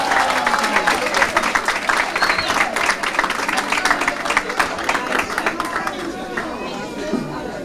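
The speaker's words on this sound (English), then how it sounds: "Please give all of these young ladies a round of applause." Crowd applause at a 2021 awards ceremony honoring young women award winners, sustained dense clapping throughout with cheering and background chatter mixed in.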